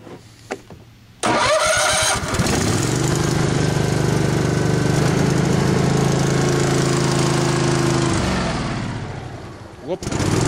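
A small tractor engine, run at full throttle with the choke on, cranks and catches into a loud steady roar, holds for several seconds, then dies away before a brief sputter at the end.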